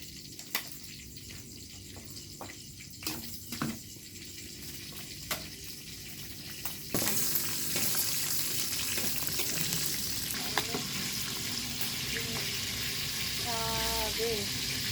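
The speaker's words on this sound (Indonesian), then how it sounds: "saya mau goreng cabai dulu ya." Chili peppers frying in a hot pan for a spicy sugar chili sauce, a steady close sizzle that grows louder midway and runs on with faint clinks of stirring.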